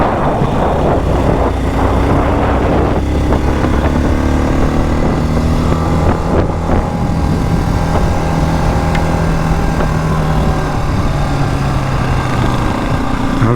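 A MASH 650 X-Trail motorcycle's 2023 single-cylinder engine runs continuously and loudly, with rising and falling tone as it revs. Steady wind rush sits underneath the engine.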